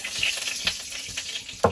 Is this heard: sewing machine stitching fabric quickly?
no